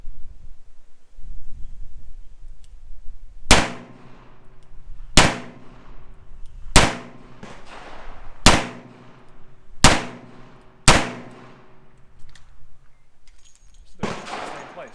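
Six sharp, loud shots ring out from a Smith & Wesson Model 10 revolver fired double action, spaced about one and a half seconds apart, each with a short ringing decay, and a seventh report starts at the very end.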